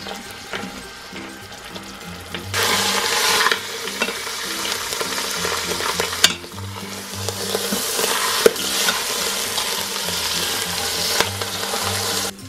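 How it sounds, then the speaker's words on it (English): Meat sears in hot oil inside an Instant Pot for a pot roast, a loud, continuous sizzle that surges and eases as pieces are stirred, with occasional sharp knocks against the inner pot. "So now that we have seared the meat"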